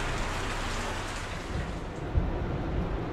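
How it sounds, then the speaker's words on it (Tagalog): Steady rain pours down outdoors at a construction project site, a dense, continuous hiss with a faint low rumble underneath and no voices. "Yan, ito, nag-uulan-ulan na naman po."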